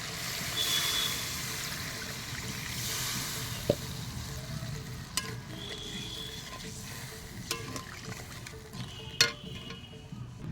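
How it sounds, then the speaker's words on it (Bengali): Water poured into a sizzling pan of cooked spices, a continuous soft hiss with scattered clinks and small knocks throughout, steady and moderately faint, with no talk. "এখন আমি জল দিয়ে দেবো।"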